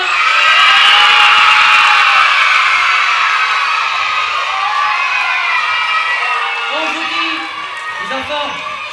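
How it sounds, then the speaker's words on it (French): A live audience at a Peter and the Wolf show claps and cheers loudly, a dense wash of applause with shouts and whoops that slowly fades over several seconds. "on peut les applaudir une dernière fois"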